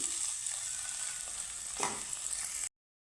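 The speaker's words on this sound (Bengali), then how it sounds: "পনিরটা আমি একটু হালকা লাল করেই ভেজে নিচ্ছি" Paneer frying in hot oil makes a continuous soft sizzle for a few seconds, alone and without talk, before cutting to silence.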